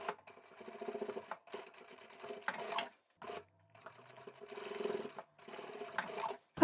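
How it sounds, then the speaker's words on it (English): Domestic sewing machine stitching the side seams of a lined drawstring backpack, close-up in short stop-start bursts of rapid needle chatter separated by brief pauses. "And we'll sew those both in place."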